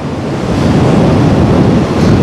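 Strong wind buffets the microphone on the Black Sea shore at Anapa while waves surge and wash close by, a loud, continuous roar with no voices.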